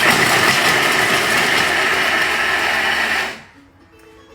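A kitchen blender whirs steadily at high speed, chopping onion, parsley and bread for a classic meatloaf, a loud continuous motor drone that cuts off abruptly near the end, leaving quiet.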